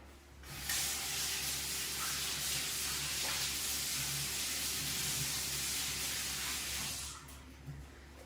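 Tap water runs steadily into a kitchen sink for about six seconds while floury hands are washed, a continuous close hiss that starts and stops abruptly over a low background hum.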